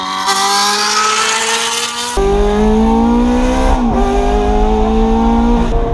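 A straight-piped Ferrari engine revs loudly up close, its pitch climbing in sustained rising pulls, then shifting and climbing again, raw and continuous with no talk.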